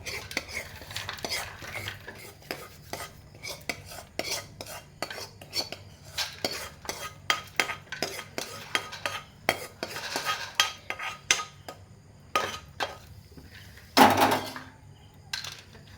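A utensil stirs and scrapes jaggery caramel with peanuts on a plate in quick, clinking metallic strokes, close and fairly quiet, with a louder clatter near the end and no talking.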